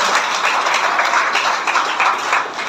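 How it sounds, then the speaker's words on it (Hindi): A group at a yoga session claps loudly together, a dense, steady burst of applause lasting a few seconds without talk over it. "एक बार जोरदार ताली बजाते हैं"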